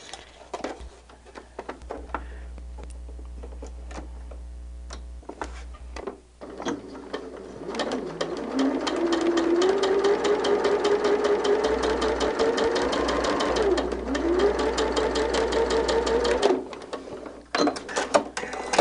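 A sewing machine stitches quilt fabric along a seam guide, its motor whirring in a rising steady run with a rapid needle tick throughout, stopping and starting a few times.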